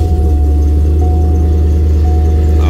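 A 1997–2004 Corvette C5 engine runs close by with a loud, steady low rumble and a faint constant whine, holding an even idle for the whole short stretch.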